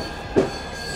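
An overnight passenger train rattles along the rails across Ukraine, a steady rolling rumble with one brief clunk from the car, heard close from inside.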